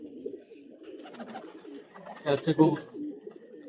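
Domestic racing pigeons coo in soft, low, throaty bursts close by, with a louder rolling coo near the end, while someone speaks over them.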